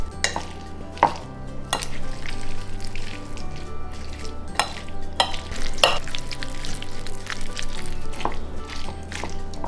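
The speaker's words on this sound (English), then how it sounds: "we're gonna mash this up a bit and then add our seasoning" A fork mashing avocado for homemade guacamole gives wet, squishy scraping and soft taps against a bowl, close and fairly loud in irregular strokes with brief pauses between them.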